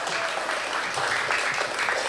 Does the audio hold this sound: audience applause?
yes